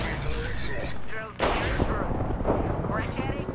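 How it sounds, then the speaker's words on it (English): Grenades explode in a shooter video game, with a sharp, loud blast about midway through, set amid a dense clatter of gunfire and rumbling impacts. "Stop throwing grenades at me"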